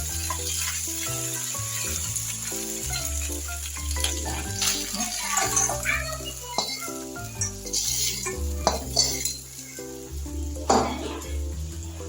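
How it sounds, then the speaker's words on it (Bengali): Dried red chilies crackle in hot oil in a pan, a continuous close sizzle broken by metallic clinks and stirring scrapes of utensils. "একটু তেল দিয়ে নিলাম, শুকনো লঙ্কা ফোড়ন দিলাম।"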